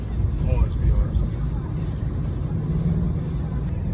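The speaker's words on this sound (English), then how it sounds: "Having the exhaust designed by Ducati for the car is why this car sounds so amazing" A Range Rover Sport SVR with a Ducati-designed exhaust gives a deep, steady rumble from inside the cabin, a low constant drone with faint clicks over it.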